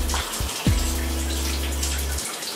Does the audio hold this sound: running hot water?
yes